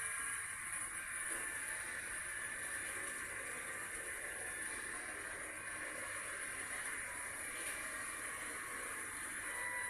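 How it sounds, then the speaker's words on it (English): Steam tank engine chuffing along a railway track, a steady continuous rumble and hiss with a hissing steam tone, moderately close and unbroken throughout, with no talking. "So Thomas was busy chuffing on his way to Shining Time."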